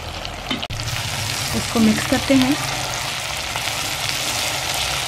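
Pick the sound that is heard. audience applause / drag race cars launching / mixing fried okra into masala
mixing fried okra into masala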